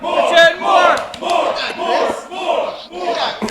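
A wrestling arena crowd chanting and cheering, loud rhythmic massed voices rising and falling in repeated bursts, close and filling the space.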